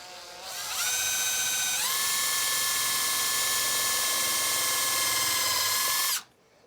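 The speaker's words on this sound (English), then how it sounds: "I can take my drill." An electric drill whirs up to speed and holds a steady, high whine for several seconds before cutting off, loud and close as it pre-drills a hole for a screw.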